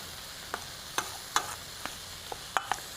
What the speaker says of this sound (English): Just give it another quick stir.